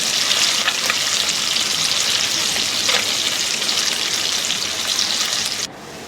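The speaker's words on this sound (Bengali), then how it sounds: "এইভাবে আমি একুচ একুচ করে খুব ভালো করে মাছটা ভেজে নেব।" Moya fish frying in hot oil, a loud steady hiss and crackle that runs without a break and then drops sharply to a quieter sizzle near the end.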